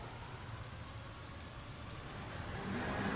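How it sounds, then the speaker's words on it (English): Rain falling in the video game L.A. Noire, a dense constant hiss of downpour that swells slightly louder toward the end, with a faint car engine underneath. "Because it's goddamn raining outside."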